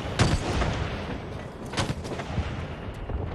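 Sharp gunshots crack out in a competitive online shooter match, several reports spread across a few seconds over a busy, noisy background, with one or two louder close shots standing out from more distant firing.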